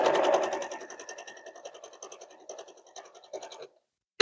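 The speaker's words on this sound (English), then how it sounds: "I'm going to go back to the top and start again. And sew down this side." A sewing machine stitches quilt blocks, its fast rhythmic needle chatter running loud at first and then tapering in bursts before stopping, followed by a single sharp click at the end.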